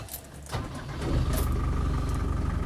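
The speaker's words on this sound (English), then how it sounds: "Starts nicely when it's warmed up." A 1990 Land Rover 90 with a 2.5-litre turbo diesel cranks briefly and catches, settling into a loud, steady, clattering idle close by with no one talking.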